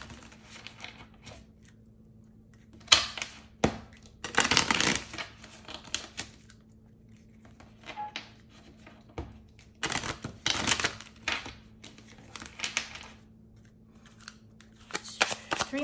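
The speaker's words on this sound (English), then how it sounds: "Shuffle these." Tarot cards being shuffled by hand during a reading, heard as several bursts of quick riffling and slapping separated by short pauses, close and fairly quiet with no talking.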